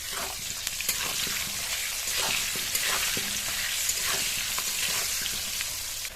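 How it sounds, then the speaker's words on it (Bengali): Potato pieces frying in oil with turmeric and salt, giving a steady crackling sizzle with scattered spatters and stirring taps throughout, close and moderately loud, with no talking. "আলুটা দিয়ে ভেজে নেব একটু হলুদ গুঁড়ো আর একটু লবণ দিয়ে"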